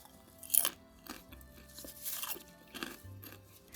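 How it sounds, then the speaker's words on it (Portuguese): Someone bites and chews sweet popcorn coated in Ninho powdered milk, giving several quiet, irregular crunches close to the microphone with no talking. "sempre que o cliente comia, ele ia sentir essa crocância"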